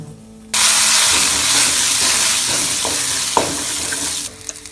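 Fenugreek seeds tempering in hot sesame oil, a sudden loud sizzle bursting in and holding steady with a few crackles and pops before it abruptly drops away.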